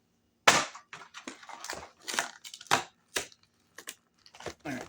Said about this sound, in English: as a palate cleanser, I'm going to crack into the Chucky's Punch Fanta.